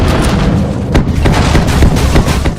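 Barrage special move in the Stranglehold video game: dense, continuous gunfire with booming shots and sharp pops packed together at high loudness, no talk over it.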